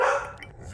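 A single dog bark sounds close and loud, cutting off quickly into a short fading tail.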